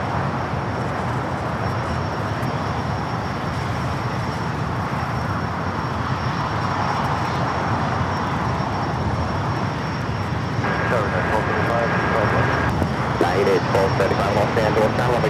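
A Boeing 787-9 Dreamliner heading to Tokyo Haneda takes off on runway 25 right at LAX. A broad, steady jet roar holds throughout and grows slightly louder toward the end, with radio chatter faintly underneath.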